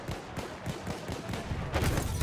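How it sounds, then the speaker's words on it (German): Gunfire from an enemy machine gun in the World War I shooter Battlefield 1, a dense crackle of rapid shots with booming explosions mixed in. The fire stays loud and continuous throughout, and it swells a little toward the end. "Ja, ein Maschinengewehr."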